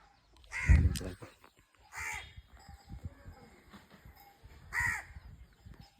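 A crow caws three separate times in a village setting at evening, loud and fairly close, with quieter background rustle and faint ambient noise between the calls.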